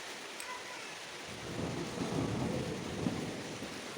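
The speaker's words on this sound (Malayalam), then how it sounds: "മഴയായതുകൊണ്ട് തന്നെ ചെറിയ ഇടിയൊക്കെ ഉണ്ട് കേട്ടോ." Steady rain falls with low rumbles of thunder swelling midway, a faint, distant-sounding storm with no voices.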